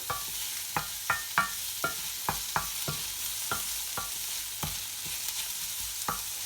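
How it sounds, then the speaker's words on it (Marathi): Onion fries in a pan for a dried shrimp masala, a steady background sizzle broken by a dozen or so sharp scraping stirs and knocks of a spatula at irregular intervals, close and without speech. "कांदा आता चांगला फ्राय करून घ्यायचा।"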